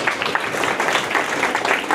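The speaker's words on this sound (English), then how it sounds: "Big round of applause for them." Brief burst of audience clapping at a college hackathon event for a team called up, moderately loud and continuous with no talk.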